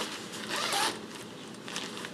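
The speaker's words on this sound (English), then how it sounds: "you can zip it all the way down and around" A Feathered Friends Penguin sleeping bag zipper is drawn along in a steady, close, soft rasping pull, with a brief louder stretch midway and another near the end.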